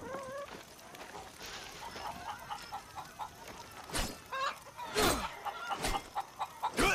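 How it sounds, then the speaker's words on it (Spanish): Several chickens cluck in short bursts in Far Cry 6, growing louder toward the end, with a few sharp clucks standing out over a faint background hum. "Oye, hay gallinas aquí."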